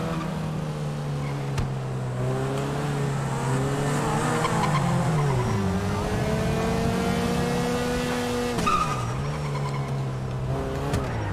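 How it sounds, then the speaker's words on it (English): Cars drag racing in the video game GTA V: loud engines rise and fall in pitch while tires squeal steadily, with a sharp skid near the end, close and continuous, with no talk. "Are they drag racing?"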